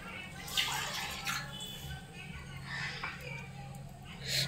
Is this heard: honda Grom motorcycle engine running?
no